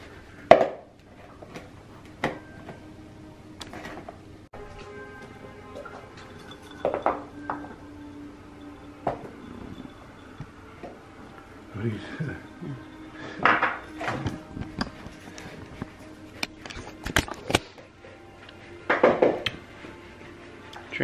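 Asparagus fries being prepared in a home kitchen, with scattered clinks and clatters of dishes, pans and cutlery, and a few knocks on wood, among occasional talk.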